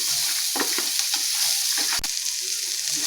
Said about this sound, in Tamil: 4 சின்ன வெங்காயம் அதையும் நறுக்கி போட்டுக்கோங்க. நல்லா வதங்கட்டும்.